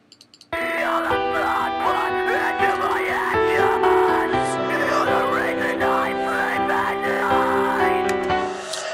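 A vocal track is processed with the Logic Pro 9 BitCrusher plugin, its downsampling and overdrive giving a gritty, crunchy tone over a dense backing mix. It starts after a few quick clicks and plays steadily to the end.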